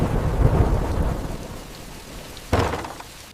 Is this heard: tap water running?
no